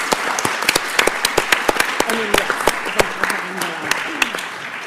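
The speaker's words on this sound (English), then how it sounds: "Can we give our students doing the pledge tonight a round of applause as well?" Applause at a school district board meeting, scattered individual claps from a small group, distinct sharp hand slaps in a loose rhythm, close, with voices speaking underneath.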